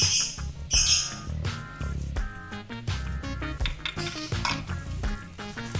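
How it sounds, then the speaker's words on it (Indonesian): Spoon scraping and clattering in a pan while a comro filling mixture with salt and seasoning is stirred, irregular close metallic knocks and scrapes over a faint sizzle. "Kita aduk sampai rata."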